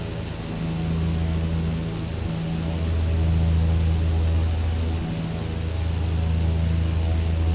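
A Britten-Norman Islander twin-engine propeller plane drones in Microsoft Flight Simulator, a steady loud low hum with strong tonal engine harmonics and a slight throb, briefly dipping twice as power shifts, no voices.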